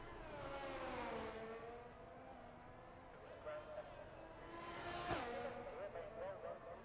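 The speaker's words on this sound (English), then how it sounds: "The Ferrari makes his way through the streets of Singapore" A Ferrari race car in a racing video game threads the Singapore street circuit, its engine note rising and falling through gear changes, steady and mid-distance under a commentator's voice.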